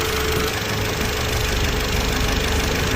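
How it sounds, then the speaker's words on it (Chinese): A car engine running with faint detonation knock under load on an uphill climb, heard as a steady low drone with a light crisp metallic ticking over it, close and continuous, no speech. "当你上坡用力的时候，会出现比较清脆的金属敲击声"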